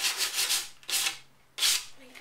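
Three rough strokes of sandpaper rubbing over wooden bird box parts, each a broad scratchy hiss, close by with short pauses between.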